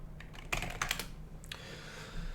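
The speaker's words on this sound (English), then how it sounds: "what we're going to type in is we're going to type in get blockchain info" Computer keyboard typing a short command, a quick burst of close clicky keystrokes followed by a final key press, then quiet room tone, no talking.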